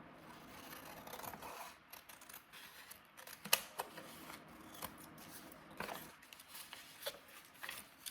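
Scissors cut through paper for a junk-journal craft, a long close run of rasping, irregular snips with occasional sharper clicks of the blades, no voice over it.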